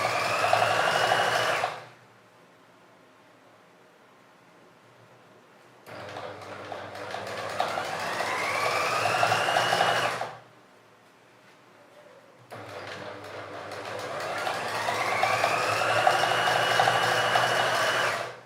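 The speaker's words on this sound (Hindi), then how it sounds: "दोनों पांचे पे इस तरह करके एक एक सिलाई लगा लें, बिल्कुल सीधी" Sewing machine running in bursts as it stitches straight seams along both cloth hems: three steady whirring runs of a few seconds each, separated by short pauses, close and clear with no talking.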